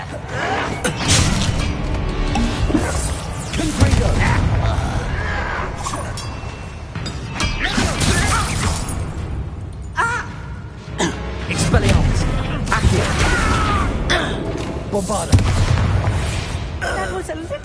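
A Confringo fire spell explodes in the Hogwarts Legacy video game: booming, crashing blasts with shattering debris inside a dense, loud game mix, with voices speaking over it.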